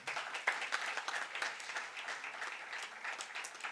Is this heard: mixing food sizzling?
no